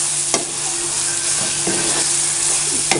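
Biryani masala with dried plums frying in a pot, a constant bright sizzle with a few sharp scrapes and knocks as it is stirred.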